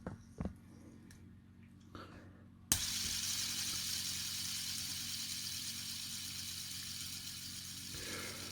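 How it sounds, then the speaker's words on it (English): An LED fidget spinner built from a kit is flicked into motion after a couple of soft knocks, then holds a steady, even whirring hiss that continues unchanged for several seconds. "If I give that a spin, all the patterns are now showing correctly as well."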